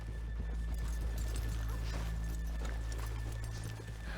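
Horses in the video game Red Dead Redemption 2, hooves clip-clopping steadily with a snort or whinny over a constant ambient hum, close and moderately quiet, with no talking.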